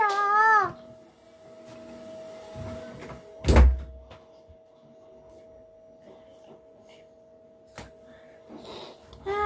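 A door closes with a single loud thud partway through, in a quiet room with a steady electronic tone and a few faint knocks and rustles.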